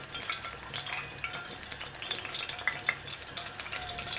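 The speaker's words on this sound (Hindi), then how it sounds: "खड़े मसाले हमारे थोड़े से फ्राई हो गए हैं" Whole spices such as cinnamon, cloves and black pepper fry in hot oil for a white bean masala, giving a constant crackling sizzle with small pops and a few stirring scrapes, close and moderately quiet.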